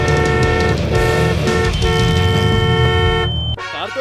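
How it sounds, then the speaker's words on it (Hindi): A Tesla Cybertruck horn blares in one long, loud, sustained honk, then cuts off abruptly near the end. "कार तो अच्छी है ही, हॉर्न भी बहुत अच्छा है"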